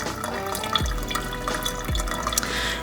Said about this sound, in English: So we're gonna pour all the tea into our container.